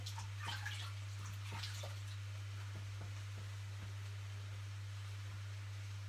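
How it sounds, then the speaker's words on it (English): Hands being washed under a running kitchen tap while cooking beef stew, a steady low hiss of water with faint splashes and drips, steady hum in the room, no talking. "So I'll just wash my hands again."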